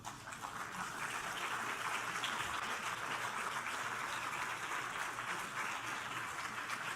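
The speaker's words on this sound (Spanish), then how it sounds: "Den un aplauso al Señor" A church congregation in Mexico applauds during a sermon, a sustained wash of many hands clapping at an even level for several seconds, fairly distant and without breaks.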